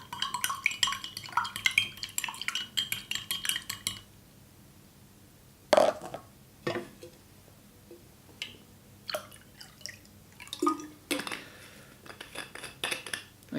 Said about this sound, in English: And give it a bit of a stir.